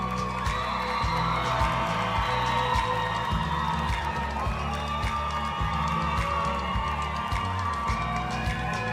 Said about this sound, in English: Let's give a big round of applause to this group.